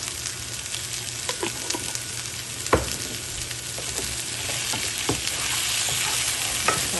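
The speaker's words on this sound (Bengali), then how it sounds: "ফুলকপিটা দিয়ে দিলাম এবার দেবো ভালোভাবে হোক" Cauliflower sizzles steadily in hot oil in a pan, with intermittent scraping clacks of a spatula stirring it, close and clear with no voices.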